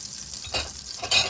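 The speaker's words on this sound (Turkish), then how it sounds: "Hemen doğramış olduğumuz bir adet kuru soğanımızı ekliyoruz. 4 dakika soteleyeceğiz." Chopped onion sizzles in hot clarified butter, with a couple of scraping stirs breaking the steady frying hiss.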